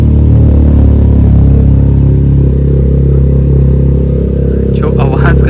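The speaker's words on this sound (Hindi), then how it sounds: "आवाज करता है ये 3 सिलेंडर इंजन में" A three-cylinder car engine idles loudly and steadily up close with a deep, throbbing rumble, and a brief voice cuts in near the end.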